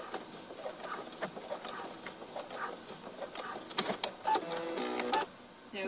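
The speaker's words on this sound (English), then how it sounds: "And I'm going to backstitch." A sewing machine works slowly through thick folded fabric, backstitching on a pillowcase dress, its needle ticking in short uneven runs that turn into a steadier whir near the end, fairly quiet and with no talking.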